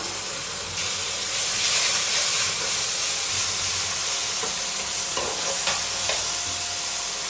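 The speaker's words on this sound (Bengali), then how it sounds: "ভেজে নেব ভালোভাবে।" Garlic, ginger and chili paste fry in a pan with a steady, loud hiss and sizzle, broken by a few sharper crackles and stirring scrapes, no voices.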